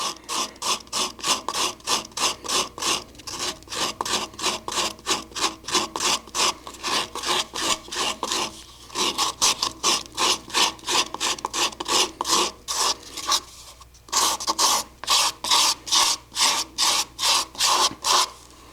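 Sandpaper rubs against a thin wood-turned bowl spinning on a lathe, making a close, loud, rhythmic rasping that repeats in quick even strokes with a few brief breaks.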